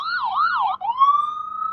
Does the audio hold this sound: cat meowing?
no